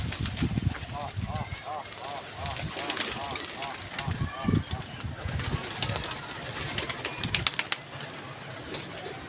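Pigeons at a pigeon club coo in repeated rolling calls that rise and fall through the middle of the clip, mixed with outdoor bustle and people talking nearby.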